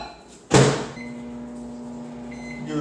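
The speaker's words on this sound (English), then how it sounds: "Then we're going to throw it in the microwave until it gets hot." A microwave oven heating a quarter cup of heavy cream in a bowl, starting with a sharp door slam or clunk, then a steady low electric hum that runs alone to the end.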